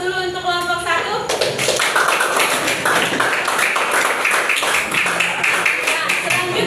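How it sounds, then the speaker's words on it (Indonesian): A classroom audience claps for the first presenting group, a dense, steady patter of many hands that rises after a brief spoken line and continues to the end. "beri aplaus dulu untuk kelompok 1"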